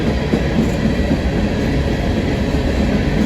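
A train rolls steadily overhead across a railway trestle, a loud continuous rumble with faint wheel clatter heard from close beneath the bridge, no voices.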